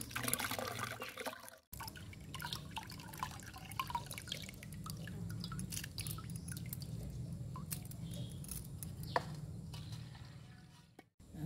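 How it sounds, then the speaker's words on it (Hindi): Water drains and drips steadily from washed urad lentils into a separate vessel in a village kitchen, a continuous close liquid trickle with small splashes for about ten seconds, briefly cut at the start and end. "तो अब ये पानी जो है हम निथार के अलग बर्तन में रख लेते हैं"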